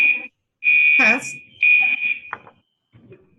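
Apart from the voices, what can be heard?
fire alarm going off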